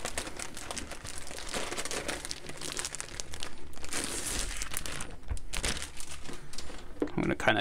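Plastic shrink-wrap crinkles and tears as a board game is unboxed, a loud, close, continuous rustling that swells and fades in bursts, with no talking over it.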